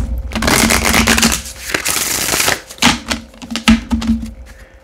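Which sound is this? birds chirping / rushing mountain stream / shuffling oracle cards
shuffling oracle cards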